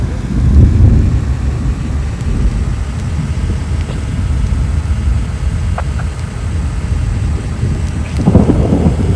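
A thunderstorm in the storm-chasing video game Twisted: steady loud rain with deep rolling thunder rumbles that swell near the start and again toward the end, with no talking.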